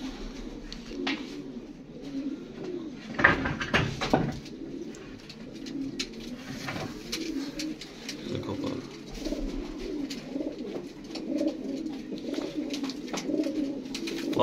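Pigeons coo repeatedly inside a breeder loft, with soft rolling coos overlapping at close range, scattered flutters and small knocks, and a steady low ambient background.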